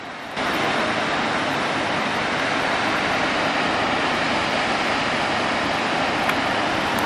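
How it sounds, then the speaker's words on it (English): Rushing water of a clear river roars steadily and loudly in an outdoor off-road setting, a dense continuous wash of sound with no voices. "Just like listen to the sound if you can hear the rushing water."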